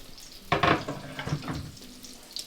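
Chili, garlic and pepper fry in a hot pan, a sudden loud sizzle at about half a second as they hit the oil, then crackling and stirring that fades to a quieter hiss.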